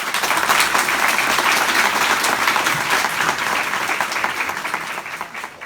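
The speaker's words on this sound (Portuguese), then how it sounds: "Peço uma salva de palmas para ambos." Sustained audience applause at an academic colloquium on artificial intelligence, thick and even clapping that gradually eases off near the close.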